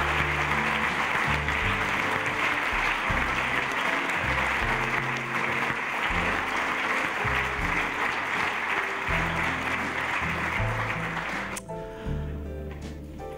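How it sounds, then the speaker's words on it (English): An audience claps in a long, sustained round of applause for a woman, with a low musical backing beneath the clapping, before it cuts off abruptly near the end. "this lady deserves a huge round of applause"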